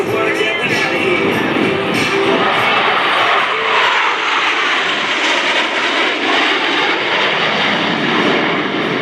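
Blue Angels jets roaring past at the NAS Oceana air show, a loud continuous engine blast sweeping over the whole stretch with a commentator speaking underneath.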